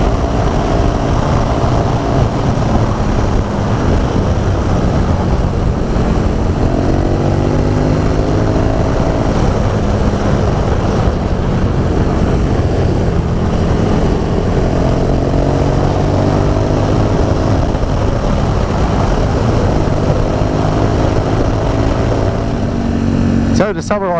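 A 2017 KTM 1290 Super Duke R motorcycle engine drones steadily while riding on the road, with wind rush and shifting engine pitch throughout, and someone talks over it.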